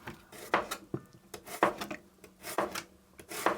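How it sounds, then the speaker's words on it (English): Knife chopping onion, garlic and red pepper on a board in a home kitchen, a quick irregular series of close, sharp cuts and scrapes with no talking. "we'll start by chopping up the onion,"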